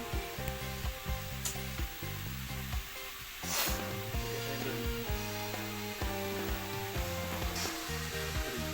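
Jackfruit with red chili stir-fries in a pan, sizzling steadily up close while a utensil scrapes and stirs, and a low tonal hum runs underneath throughout.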